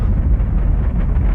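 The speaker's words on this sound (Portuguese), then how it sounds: "A nave espacial Swift da NASA foi lançada numa missão" NASA's Swift spacecraft rocket launches with a deep, continuous rumbling roar, loud and steady with heavy low-end buffeting and no voices.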